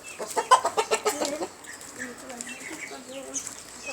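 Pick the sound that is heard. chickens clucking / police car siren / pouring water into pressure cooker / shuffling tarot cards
chickens clucking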